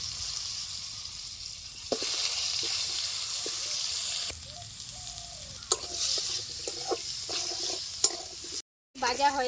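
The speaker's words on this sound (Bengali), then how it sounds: "এখন আমি আলুগুলি ভেজে নেব।" Potatoes frying in mustard oil in a wok, a steady sizzling hiss that rises when the pieces go in, with intermittent utensil clinks and scraping, and a short gap near the end.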